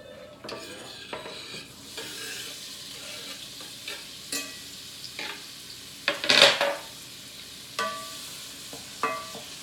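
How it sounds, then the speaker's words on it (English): Chopped onion hits a hot pan over high gas and sizzles steadily, with a few louder bursts of frying and stirring scrapes close by and no talk. "now I'm going to add my onion"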